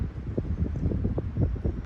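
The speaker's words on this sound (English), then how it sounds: "That's a pretty good gust." Wind gusting through swaying pine trees, a steady rushing roar with buffeting on the microphone that swells and eases over a couple of seconds.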